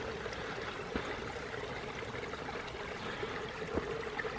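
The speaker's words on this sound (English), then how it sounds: "It's got running water." A small stream runs with a steady, faint trickle and babble at a quiet woodland camp spot in the Peak District, continuous and even with no voices.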